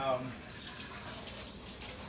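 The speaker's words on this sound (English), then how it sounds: "I'm gonna pour some cold water over it" Cold tap water poured over freshly cooked pasta in a sink, a steady broadband splashing rush that holds at an even level throughout, with no clear speech over it.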